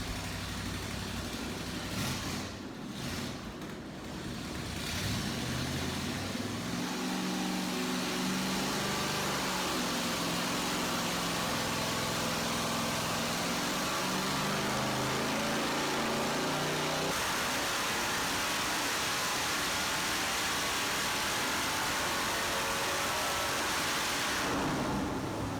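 A 440 V8 engine with a Holley carburetor on an Edelbrock intake runs on a dyno, giving a loud, steady mechanical roar that changes pitch midway and continues without pause for the whole stretch.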